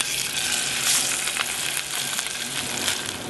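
Fish sizzles and fries in lightly smoking olive oil in a Le Creuset pan, a steady, close, dense crackle that holds for a few seconds with no talk.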